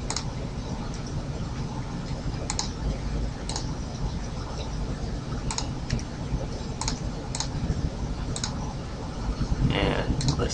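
Keyboard keys and mouse buttons click in Photoshop in sparse, crisp ticks over a steady background hiss, with a brief louder patter near the end.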